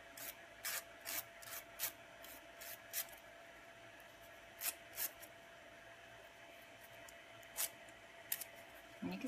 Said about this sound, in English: I'm going to just rub the tip a little bit